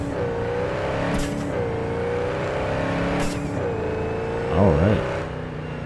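Engine of a car being driven in Cyberpunk 2077, a steady drone with rising and falling pitch, a brief higher surge near the end, with a voice talking over it.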